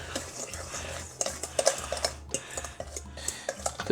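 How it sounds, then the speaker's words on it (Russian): Rapid clinking and scraping of a fork stirring cocoa in a bowl, steady and close, with a low hum underneath. "И вилкой это я сейчас перемешаю."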